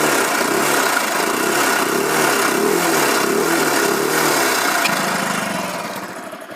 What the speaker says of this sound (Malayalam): ഞാനിപ്പോൾ വണ്ടി എടുക്കണു, ഒന്ന് സ്റ്റാർട്ട് ചെയ്യണു, സ്റ്റാർട്ട് ചെയ്തിട്ടുണ്ട്. ഇനി ത്രോട്ടിലൊന്ന് കൊടുക്കുക.